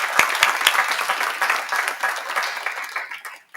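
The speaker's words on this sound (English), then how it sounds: "Let's give him a round of applause" An audience at a Southern University Board of Supervisors meeting applauds the school's principal, a steady wash of many hands clapping that holds for a few seconds, then thins and fades out near the end.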